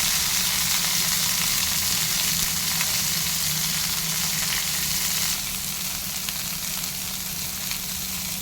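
Steady, close sizzle of coriander frying in hot oil in a pan with goat brain, a continuous hiss that eases slightly partway through, with no talking over it.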